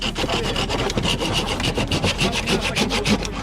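Steady back-and-forth sawing of wood with a Silky hand saw during a timed cutting contest at an outdoor rally in Lędziny, the rapid rasping strokes continuous, close and fairly loud throughout with no talk.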